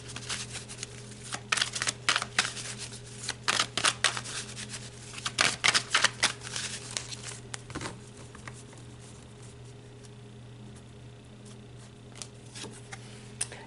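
Tarot cards being shuffled and drawn, a run of quick papery riffles and flicks in bursts over the first several seconds, then quieter handling sounds alone with no talking.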